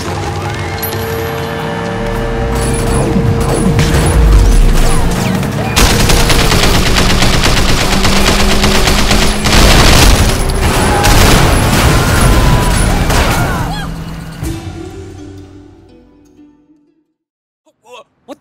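Loud, dense automatic gunfire from remotely armed guns mounted on a car in the open-world game Sleeping Dogs, sustained bursts layered with engine rumble and crashes, tapering off near the end.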